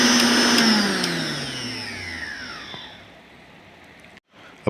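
A rewound mixer grinder motor spinning down, its whine gliding steadily lower in pitch as it coasts and fades, with a brief cutout near the end.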